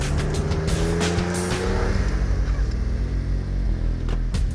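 A built Jeep JK revs hard in a front dig, its engine roaring loud and close while the tires spin and squeal continuously with no one speaking.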